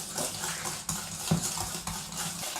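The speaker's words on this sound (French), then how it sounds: "Donc là on va commencer à mélanger. Bien mélanger." Cream for an apple tart with vanilla sugar being mixed in a bowl, with close, quick scraping and tapping of a utensil against the bowl in a steady rhythm, no voices.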